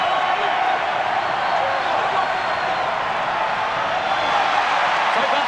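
A large crowd at a rugby stadium during a Hawke's Bay versus Canterbury match sends up a constant broad roar. The crowd noise fills the clip and no single cheers stand out.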